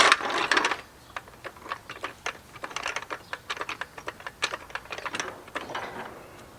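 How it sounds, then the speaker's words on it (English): A jack works under a trailer axle with a run of quick light clicks and ratcheting ticks in an uneven rhythm, close by, after a brief louder clatter at the start. "we're going to go ahead and jack up this axle"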